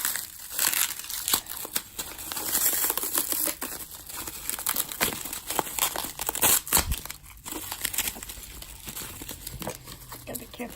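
Packing tape is pulled and torn off a cardboard box during an unboxing, making a continuous loud crinkling and ripping that runs throughout with a voice at times.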